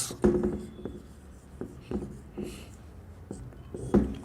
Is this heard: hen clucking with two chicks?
no